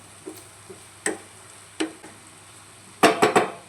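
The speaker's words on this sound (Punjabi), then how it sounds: "ਸਾਰੇ ਮਸਾਲੇ ਆਪਾਂ ਕਰ ਲਏ ਚੰਗੀ ਤਰ੍ਹਾਂ ਮਿਕਸ" A spoon stirs spices into a pointed gourd (parwal) curry in a pan, giving a few light, spaced scrapes and taps close by, then a quick cluster of sharper clacks near the end.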